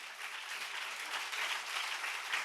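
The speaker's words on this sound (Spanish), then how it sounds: "Denle un aplauso fuerte al Señor Jesús" Church congregation applauding for Jesus during a Spanish-language sermon, a steady dense wash of many hands clapping at moderate loudness for a couple of seconds with no talk over it.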